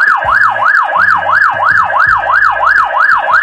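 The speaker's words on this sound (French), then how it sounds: "Quand vous appuyez dessus, vous avez une alarme type sirène de police américaine" An Infacto 30W megaphone sounds its alarm in an American police siren style, a loud wailing tone that rises and falls in rapid, regular cycles, steady and continuous with a buzzy edge.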